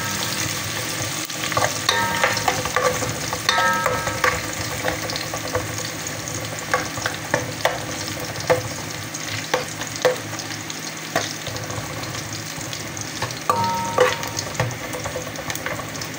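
Garlic sautéing in a pan for ginisang monggo, with a steady sizzle and scraping stirs running throughout, close and moderately loud, no talking.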